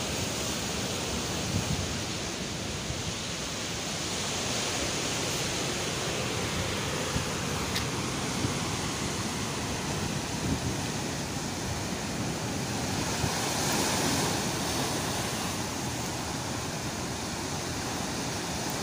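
Steady, broad roar of surf washing continuously on Solokan Beach in Surade, Indonesia, with a constant hiss and no distinct breaks between waves.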